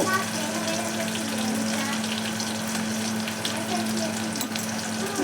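Potatoes with turmeric fry in a pan while salt gets stirred through them, a steady dense sizzle running the whole time under a faint constant hum, with no pauses.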